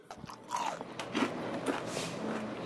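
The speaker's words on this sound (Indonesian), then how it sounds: "coba kalian dengarkan suara cireng yang aku masak 5 jam yang lalu ya" Crisp bites and crunchy chewing on cireng, a fried tapioca snack cooked five hours earlier, several sharp crackles close to the microphone in a quiet room.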